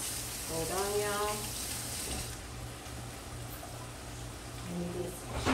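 Water runs steadily from a kitchen faucet while something is rinsed during breakfast cooking, a continuous hissing splash throughout, with a brief spoken voice near the start and a low hum underneath.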